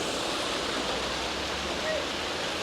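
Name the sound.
water flooding into a canal lock through opened gates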